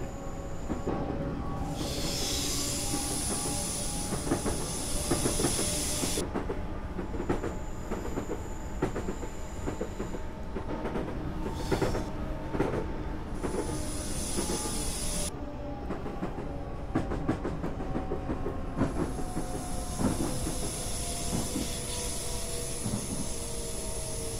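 A long train in Train Simulator 2013 rumbles and clatters steadily past, with hissing air bursts and rhythmic clicking of wheels over rails, loud and close throughout.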